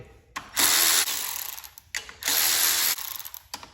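A ratchet with a 10mm socket works on the muffler bolts of a Kohler Courage mower engine that leaks oil, giving two close bursts of rapid clicking with short quieter pauses between them.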